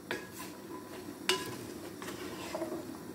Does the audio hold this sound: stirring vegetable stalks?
yes